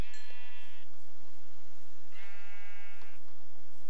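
Two separate sheep bleats from Minecraft, each a short wavering harmonic cry, the first near the start and the second about two seconds later, heard over a low steady game background.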